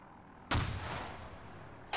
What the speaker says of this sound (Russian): Че у вас там взрывается?